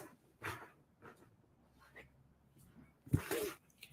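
A dog wanting its ball makes close, faint snuffling and whimpering sounds, with a sneeze-like snort and a louder burst near the end, amid quiet breathing.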